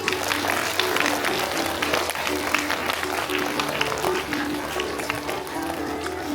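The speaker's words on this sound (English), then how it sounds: "1C, Sunita ma'am, clap loudly." A school crowd at a Founders Day celebration claps for a class teacher, sustained thick applause from many people throughout, loud and steady, with a background hum of voices mixed in.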